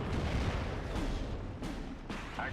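Panzerfaust firing in the WWII video game Steel Division: Normandy 44, dull booming blasts amid a rumbling battlefield din, with sharp reports around the middle and end, no voices.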